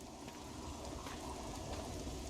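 In the video game The Witcher 2, rain falls as a faint, steady hiss with soft scattered patter, heard alone with no voices.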